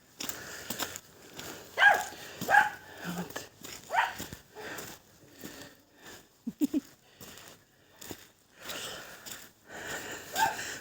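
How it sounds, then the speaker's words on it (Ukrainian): A small dog gives a few short, yappy barks at irregular intervals, fairly faint, amid quiet shuffling and soft background noise. "Собачка гавка така інтересна, як кролик риженький, маленька"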